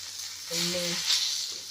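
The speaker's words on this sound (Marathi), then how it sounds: "दोन तीन डाळीचे दाणे भुजते" Dal grains, chillies and coconut dry-roast in a pan for a bhaji amti curry, making a soft, steady sizzle with a brief tonal hum partway through.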